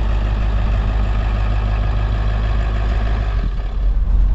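Diesel engine of an overlanding vehicle running steadily while driving on the road in India, a loud continuous low rumble with constant road noise and a slight shift near the end.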